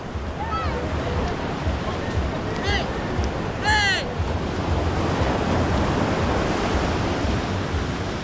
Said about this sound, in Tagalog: Ayan guys ang lakas ng alon tol, nabasa ako sobra.